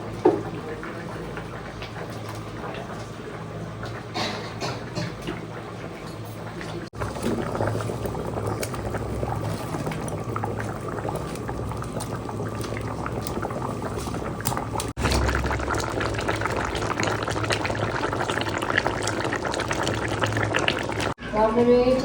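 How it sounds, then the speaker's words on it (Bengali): Fish being added to a pot of boiling curry broth, a steady bubbling, simmering wash with a few abrupt shifts as pieces go in, moderately close and unbroken. "ঝোল ফুটে গেছে এবার মাছগুলো দিয়ে দিলাম"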